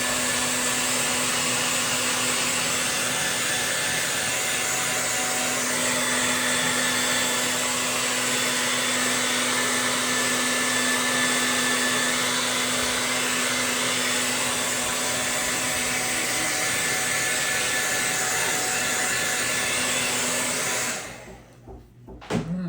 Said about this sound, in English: I do a little heat set, just a cheap old hair dryer. Pardon the noise